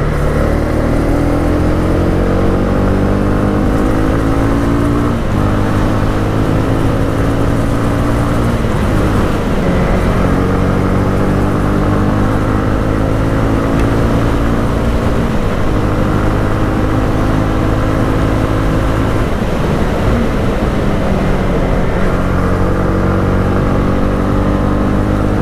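Honda CB300R motorcycle being ridden, its engine droning loud and steady throughout with repeated rising gear pulls and shifts, close and continuous with wind roar.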